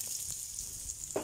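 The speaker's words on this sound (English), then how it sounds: "Now you can hear the sizzling of the garlic and the small bits are getting brown." Steady hiss of garlic sizzling in a hot frying pan, close and continuous, with a faint clink near the end.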